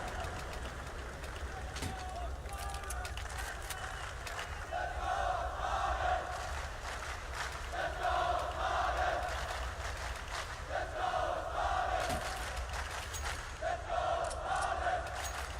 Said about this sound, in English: Great support here from the crowd for Astralis to make this comeback a reality.